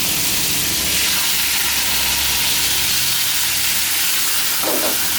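Pumpkin frying in a pan steams and sizzles loudly as water is added for a Thai stir-fried pumpkin with egg, a broad continuous hiss that holds steady throughout, close up.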